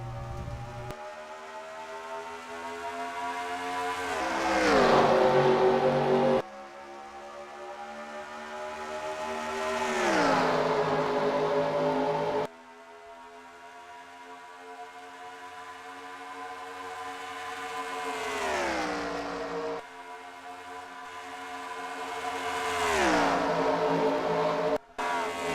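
Race car engines in a NASCAR-style video game race at Atlanta roar past again and again, each pass rising to a loud whine, then dropping in pitch as it fades, under a steady engine drone.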